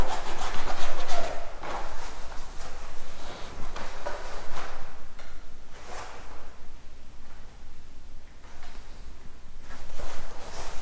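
Heavily starched fabric rubbed and scrunched in repeated close, loud bursts, producing a crisp, papery rasping that rises and falls through the clip with no talking.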